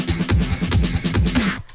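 Drum loop layered with added electronic drums on a modular synth setup plays a short, steady punchy beat of kicks and snares, close and clear with no talking.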